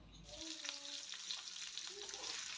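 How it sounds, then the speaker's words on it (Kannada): Spiced fish fries in a pan over a low flame, giving a steady, soft crackling sizzle with faint popping, close and continuous over a couple of seconds. "5 ನಿಮಿಷ ನಾನು ಒಂದು ಸೈಡನ್ನು ಚೆನ್ನಾಗಿ ಫ್ರೈ ಮಾಡಿದ್ದೀನಿ."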